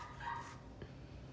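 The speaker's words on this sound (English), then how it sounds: "See, she's barking so she can't hear me." A pet dog named Zenny gives a short bark indoors during a craft session, a single faint yip heard at a distance over a low room hum.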